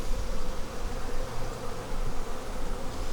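Honey bees buzz steadily at a failing, queenless beehive, a dense close-up drone that holds continuously throughout.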